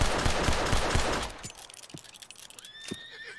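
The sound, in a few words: Norfolk Roadster horse neighing, agitated, Red Dead Redemption 2 video game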